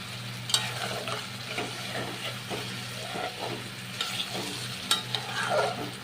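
Curry paste with whisked yogurt is stir-fried in a pan for a restaurant-style chana paneer. A continuous moderate sizzle carries repeated scraping and stirring strokes, with a few sharper clacks of the spatula.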